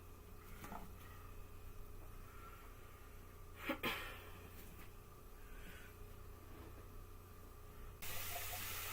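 Soft, steady hissing of food sizzling in a pan, quiet and continuous, with a couple of faint clinks from cookware.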